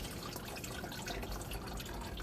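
Engine oil from a 1999 Ford F-150 V6 dripping and trickling out where the oil filter was removed, a faint, watery patter that runs continuously through the short stretch.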